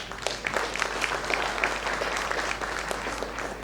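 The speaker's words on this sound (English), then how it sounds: "A huge round of applause for him." An audience applauds at an architecture and interiors design debate event in Indore, a steady wash of clapping from a hall of people, moderately distant and sustained.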